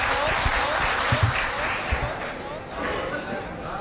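Applause ripples through the audience at a Hindi poetry recital in Varanasi, a steady wash of clapping that is mixed with talking voices and dips briefly before swelling again.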